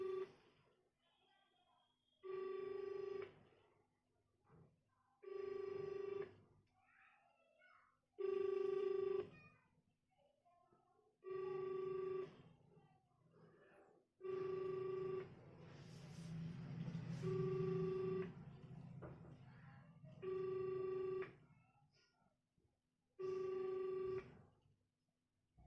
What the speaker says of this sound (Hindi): पहले कॉल नंबर पे कर रहा हूं, रिंग जा रही,